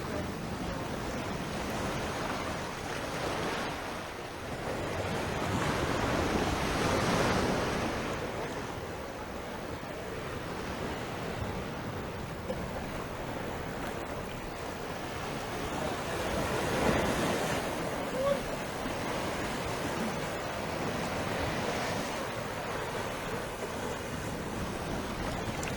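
Ocean waves roll and wash steadily along a Barbados coast at Oistins and Enterprise on a cool morning, with broad surf surges and wind buffeting the microphone throughout, no talking.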